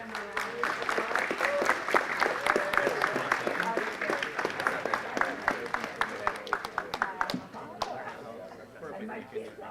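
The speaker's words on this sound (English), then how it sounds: "Let's give them a round of applause" An audience at a city council meeting applauds, a dense burst of clapping that thins into scattered individual claps toward the end, with voices and cheers mixed in.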